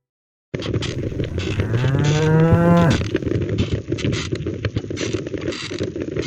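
A single long, deep moo from an ox pulling a cart rises and falls for a couple of seconds, close by, over a steady outdoor rumble.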